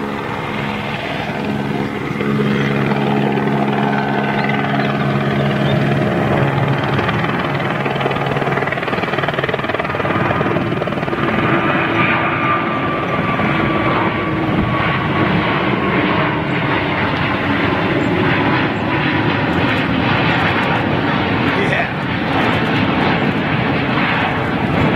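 An Airbus A350 airliner departs at a Toulouse fly-past, its loud sustained jet roar filling the whole stretch with shifting, sweeping engine tones and no talk.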